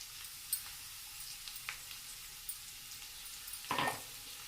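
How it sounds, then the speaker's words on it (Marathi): Crushed garlic sautés in hot oil as a tempering for a cauliflower curry, producing a faint, steady sizzling hiss with a few soft stirring taps and a louder scrape near the end. "लसूण चांगलं आपण थोडंसं परतून घेऊया याच्यामध्ये"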